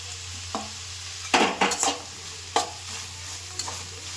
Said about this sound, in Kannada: ಎರಡನ್ನು ಮಿಕ್ಸ್ ಮಾಡಿ ಒಂದು ಸ್ವಲ್ಪ ಫ್ರೈ ಮಾಡಿ